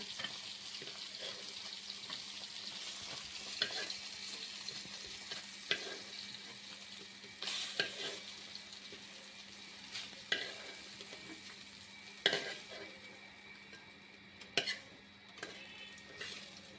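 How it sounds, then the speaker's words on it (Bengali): Rohu fish pieces being lifted out of hot frying oil, a soft continuous sizzle broken by sharp clinks and scrapes of a utensil, close but fairly quiet, with no talking. "মাছ ভাজা হয়ে গেছে, এই জন্য উঠিয়ে নিচ্ছি আমি।"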